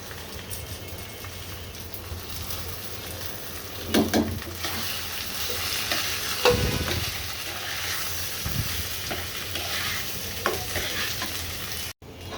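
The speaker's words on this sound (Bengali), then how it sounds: "চাউলগুলো আমার ভেজে নেওয়া হয়ে গিয়েছে" Rice for pulao fries in a pan, giving a soft, steady sizzle broken by occasional scrapes and knocks of stirring, faint and close, with no talking.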